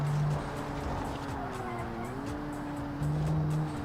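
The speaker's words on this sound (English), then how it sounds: "Oh god, I just heard his engine." Racing car engines in a video game drone and whine, the pitch sliding up and down as a vehicle accelerates, with tire noise and brief louder tones.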